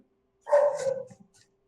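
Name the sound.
dog barking through a caller's open phone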